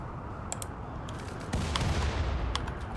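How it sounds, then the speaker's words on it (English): Grenade explosions and gunfire ring out in a Rimworld raid, with sharp shots crackling in quick bursts and a heavier low thump midway, at moderate distance. "Okay, they're throwing nades at those."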